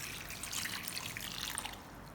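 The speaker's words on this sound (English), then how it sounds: "pour in enough clean water to completely cover the grapes" Clean water pours steadily into a bowl of grapes, a continuous splashing trickle that stays close and even from start to finish.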